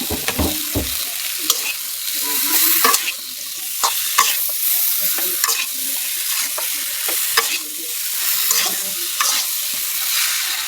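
A spoon stirs chalta pickle with sugar in a hot pan, giving repeated scraping strokes over a continuous sizzle and frying crackle, close and clear with no talking.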